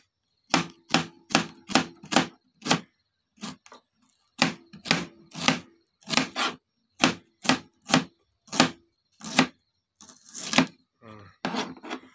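A knife chops onion into pieces on a board in quick, close runs of sharp taps, pausing briefly between bursts.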